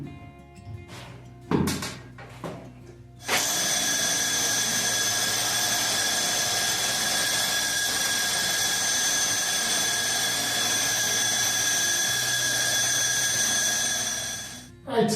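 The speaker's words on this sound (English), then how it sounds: "And let's get this drilled out." A power drill bores a hole, starting with a few handling knocks and clicks before a loud, steady high-pitched whine runs for about eleven seconds and then winds down.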